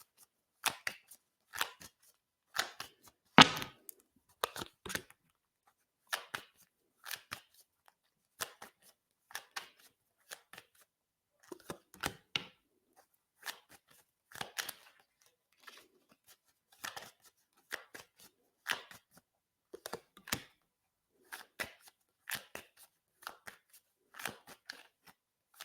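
Tarot cards being shuffled and pulled from a deck, a long run of crisp, rapid riffling snaps and flicks in uneven bursts, close and fairly quiet, with no talking over them.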